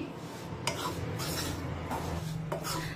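A ladle stirs a warm wheat flour ladoo mixture with jaggery, nutmeg and cardamom powder in a pan, giving soft repeated scraping and rubbing strokes with a few sharper metallic scrapes over a low steady background hum.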